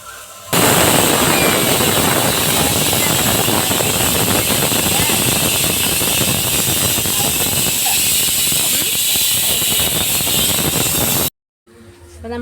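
A pressure cooker of beef curry lets off a loud, sustained steam whistle in a home kitchen, a harsh continuous hissing shriek lasting about ten seconds before cutting off abruptly, with no talking over it.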